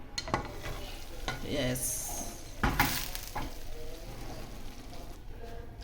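Masala being stirred into cabbage curry in a pan, with a soft scraping and sizzling texture and a couple of louder spoon strokes, close up, briefly broken by a single spoken word.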